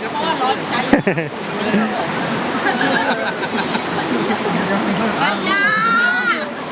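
A cold mountain stream flows at Khiri Wong where people soak in the water, with steady rushing and splashing, and people talk over it throughout.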